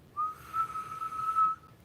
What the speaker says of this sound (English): I learned how to whistle by inhaling first.